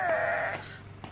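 Sheep on a village farm bleat loudly and close by, one long wavering call filling the first half second before fading into quieter farmyard ambience.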